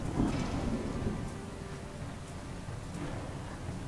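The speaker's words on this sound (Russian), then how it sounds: "Дождик." Steady rain with a low thunder rumble in the dark fantasy video game Hunted: The Demon's Forge, a continuous wash of falling water over deep rolling bass, fairly quiet and heard alone.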